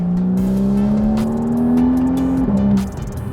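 A Porsche 981 Boxster S sports car engine revs with a smooth rising tone that holds, then drops off, loud and close with a throaty drone.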